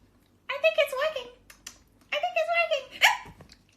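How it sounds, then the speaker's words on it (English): Two bursts of cartoonish hiccups from a character, each a loud voiced, speech-like string of catches, with a sharp hiccup near the end. "I have the hiccups."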